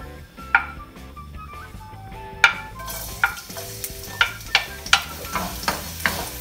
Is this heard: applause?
no